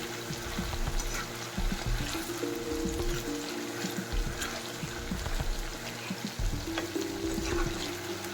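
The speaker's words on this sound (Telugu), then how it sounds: "ఆయిల్లో డీప్ ఫ్రై చేసుకోవాలి." Chicken pakoda deep frying in hot oil, a steady dense bubbling sizzle running throughout at close range, with no talking.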